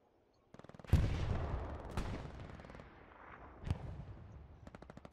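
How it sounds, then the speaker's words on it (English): Sustained machine gun fire in a tournament match of a military shooter game, a dense burst of rapid shots after a short clicking run-up, with sharp louder cracks standing out and repeated rattling tails fading at the end. "Now they have an MG going"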